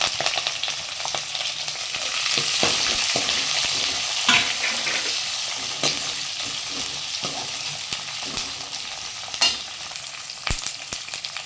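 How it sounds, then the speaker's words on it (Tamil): Onions with green chilies and curry leaves sizzle steadily in a hot pan, with occasional scraping and clicks from stirring, no voices. "கொஞ்சமாக சால்ட்டு சேர்த்து வதக்கிடுங்க வெங்காயத்தை. வெங்காயம் சீக்கிரமாக வதங்கி வந்துடும்."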